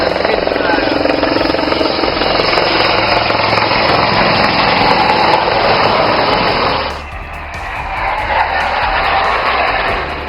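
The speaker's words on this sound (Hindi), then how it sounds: "जब राफेल और सुखोई जैसे विमान टेक ऑफ और लैंडिंग का पराक्रम दिखा रहे थे" Rafale and Sukhoi fighter jets take off and land on an airstrip near the Chinese border in northeast India, a loud, steady roar of jet engines that dips briefly and then builds back up, with voices faintly underneath.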